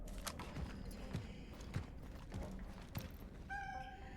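A cat meows repeatedly in the video game Cronos: The New Dawn, several short mews spaced through the clip over ambient game sound, ending with a brighter tonal chime.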